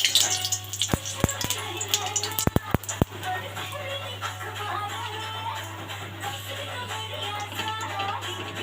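Dry red chili and cumin seeds sizzle in hot mustard oil for a chicken-gourd and potato dish, a soft continuous crackle with a few sharp clicks and pops early on, fairly quiet, over a low steady hum.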